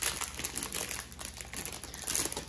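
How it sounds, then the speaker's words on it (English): A crinkly plastic bag rustles and crackles sharply as it is pulled and opened close up, in quick uneven bursts with no talk over it. "You need to open number one bag."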